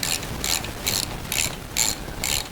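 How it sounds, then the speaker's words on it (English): Ratchet handle turning a thread chaser on the spindle bolts and studs of a 1976 Jeep CJ-5 Dana 30 front axle, six evenly spaced rasping click bursts, close and loud, with no talking. "I'm going to take this thread chaser set and I'm going to chase all the threads on these spindles, spindle bolts, spindle studs"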